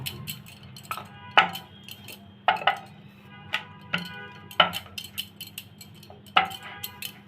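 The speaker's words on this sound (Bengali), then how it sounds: "বড় করে এবং পাতলা করে রুটিটা বেলে নিব।" Roti dough for a Mughlai paratha stuffed with boiled egg and potato is rolled thin with a rolling pin, the pin knocking against the board in a loose series of sharp clicks and taps over a low steady hum, with no talk.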